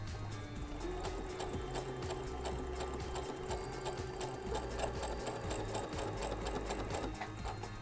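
Sewing machine running a straight stitch with a braiding foot and monofilament thread, stitching satin and faux leather: a steady, fast, close mechanical clatter of even needle strokes lasting several seconds, with no talk.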